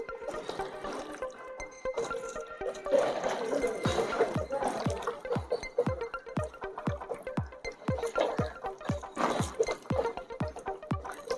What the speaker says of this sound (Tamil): இப்போது இதில் வந்து தேவையான அளவு தண்ணி ஊற்றுறோம்.